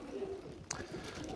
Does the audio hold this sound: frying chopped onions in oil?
no